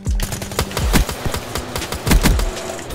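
M14 burst rifle fired in Call of Duty Black Ops 3, with quick loud bursts of gunfire cracking in rapid succession, close and dense, with no talking.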